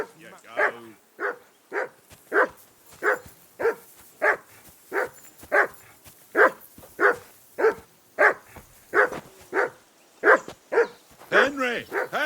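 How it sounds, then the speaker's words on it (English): In the Kingdom Come Deliverance 2 video game, a dog barks in a steady run of about twenty evenly spaced, loud barks that end in whimpering yips, with voices heard alongside. "Call off that mutt of yours!"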